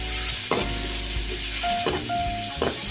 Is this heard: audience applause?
no